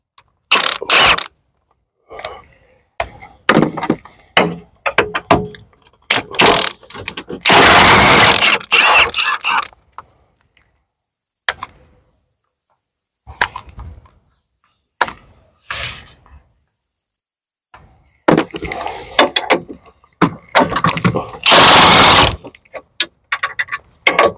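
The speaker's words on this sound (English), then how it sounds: "I'm going to undo these 4 bolts. They're 15mm nuts." Someone works a ratchet wrench on the 15mm engine mount nuts of a Ford Focus, giving repeated bursts of quick metallic clicking separated by short pauses, loud and close.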